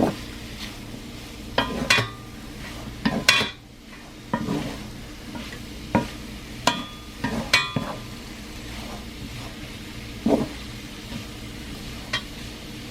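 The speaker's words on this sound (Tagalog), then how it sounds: "Simpleng luto ng ampalaya." Bitter gourd (ampalaya) stir-fried in a pan at home, with a steady sizzle under repeated sharp scraping and clinking strokes of a spatula against the pan, close and fairly loud, with no talking.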